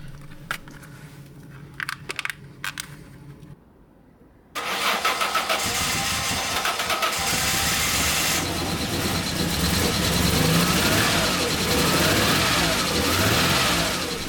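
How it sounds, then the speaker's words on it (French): Peugeot 605 V6 car engine with a rough-running fault: a few short clicks and a pause, then the engine cranks and catches, revving up before settling into a loud, uneven running drone. "j'en ai marre de ce moteur qui tourne comme une merde"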